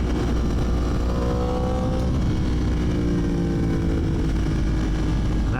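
A Yamaha R1 sport motorcycle engine drones loud and continuous while riding, its pitch rising and falling with throttle over heavy wind rush.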